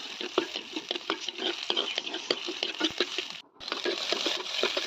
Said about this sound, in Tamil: இடித்து வச்ச வெங்காயம், பூண்டு, கறிவேப்பிலை இது மூணையும் போட்டு வதக்கிக்கோங்க.